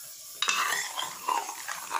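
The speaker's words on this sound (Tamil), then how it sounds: "இதை வந்து நல்லா மிக்ஸ் பண்ணி விட்டுட்டு நான் வேறு ஒரு பவுலுக்கு மாற்றிட்டு" Kerala avial curry mixed with curd being stirred in a pot, giving soft, wet scraping and stirring sounds in a few close bursts, with faint clinks of spoon against the vessel and no talking.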